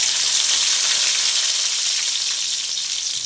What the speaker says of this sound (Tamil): இப்போ கருவேப்பிலையும் கட் பண்ணி வச்ச வெங்காயம் சேர்த்துக்கலாம்